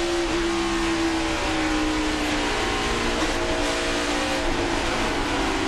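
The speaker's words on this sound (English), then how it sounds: "You can hear just as Mike Wallace picked the throttle back up, that's when his car got loose and jumped up the racetrack" Mike Wallace's stock car at the 2008 NASCAR Nationwide Series Dollar General 300, a loud, continuous engine drone with a tone that dips slightly, then holds steady under a race broadcast mix.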